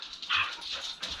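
Small dog yipping and barking in short high-pitched bursts indoors, a couple of sharp yaps near the middle and one at the end, fairly close and moderately loud, with no talk over it.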